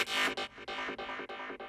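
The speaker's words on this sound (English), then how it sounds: "We generate a tone, we use a distortion in this case." A synthesized tone passed through distortion and then a filter, heard as a bright, buzzy tone chopped into a rhythmic series of stuttering pulses with short gaps, loud and close and without any voice.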